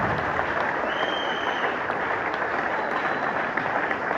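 A church congregation applauding steadily and loudly at a French-language service, a dense wash of clapping hands that keeps up without pause.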